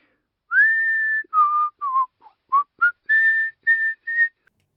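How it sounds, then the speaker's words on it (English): A woman whistles a tune by the stove in a giant's castle kitchen, a clear, close melody of several sustained and short notes separated by brief pauses, with nothing else heard. "The giant's wife was whistling by the stove."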